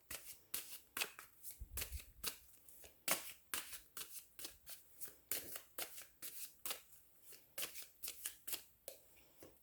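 Tarot cards being shuffled by hand, a quiet close series of crisp riffling snaps and slaps in an irregular rhythm, heard alone.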